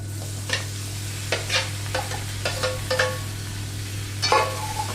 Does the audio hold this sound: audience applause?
no